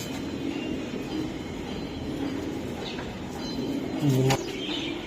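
A racing pigeon gives a brief, low coo near the end, close by and over a steady rumbling background noise.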